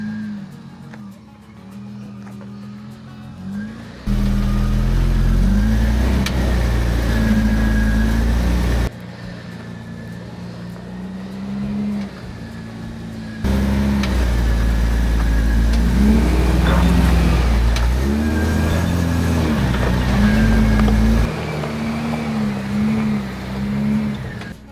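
Toyota Land Cruiser crawling up a polished rock shelf off-road with its engine loud and close, revving and straining in long surges with brief lulls between pushes.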